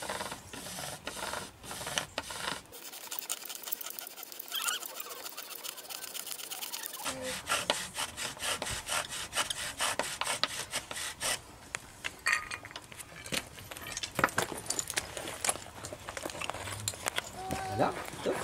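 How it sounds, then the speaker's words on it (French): Wooden fire drill spun in a notch on a hearth board for prehistoric-style friction fire, producing rapid rhythmic rasping and rubbing strokes that stay close and steady, with a quieter stretch partway through. "Je mets la drill dans le bas de l'encoche. Alors vous allez voir, ça va fumer"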